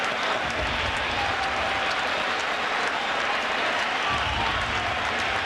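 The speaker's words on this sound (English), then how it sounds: "And you hear the crowd react on that one." A baseball stadium crowd at a 2006 playoff game roars in a dense, continuous wash of noise for several seconds, broad and steady without distinct claps or clear speech.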